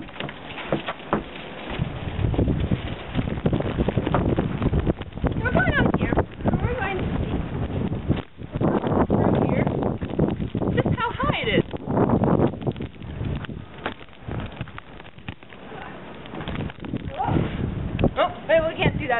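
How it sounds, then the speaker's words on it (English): Gusty wind during a snowstorm buffets the microphone in strong, uneven surges, roaring loud and close, while a person talks throughout. "Now we're at the other side, and it is windy over here"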